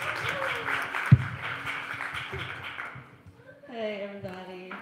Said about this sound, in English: please give a warm round of applause once again to our founder